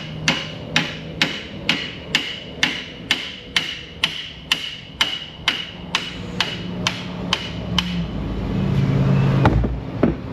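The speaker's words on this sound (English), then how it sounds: "Can't slide the slide hammer once it's in place." A slide hammer pounds repeatedly on a Subaru axle in an auto repair shop, with about fifteen sharp metallic strikes at a quick, even rhythm. The strikes stop as a low rumble swells near the end.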